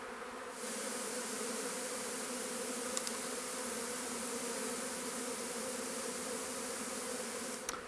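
Honey bees in a hive cluster left alone for about twenty years, making a continuous dense buzzing drone close by with a few faint clicks and no voices.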